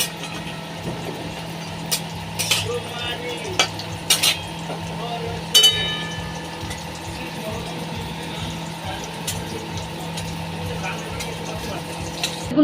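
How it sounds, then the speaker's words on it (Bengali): Bori lentil dumplings fry in hot oil in a wok with a steady close sizzle, while a spatula stirs and scrapes against the metal in several sharp clanks. "তেলটা কড়াইটা আমি বসিয়ে দিয়েছিলাম গরম হয়ে গেছে এবার আমি বড়িটা ভেজে দেবো"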